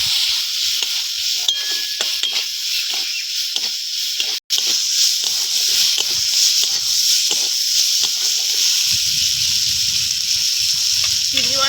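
Prawns seasoned with turmeric and salt fry in a hot pan, a continuous sizzle broken by repeated scraping strokes of a spatula stirring them, with one sharp knock partway through.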